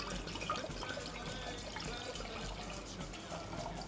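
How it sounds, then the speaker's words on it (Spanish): Sweet wine poured into a cooking pot, a faint steady liquid trickle and splash running continuously with a low background hum. "para comenzar empezamos vertiendo el vino dulce"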